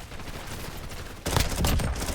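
Rapid submachine-gun fire in Call of Duty Warzone, a dense crackling burst of shots that swells louder halfway through and continues steadily, with no talk over it.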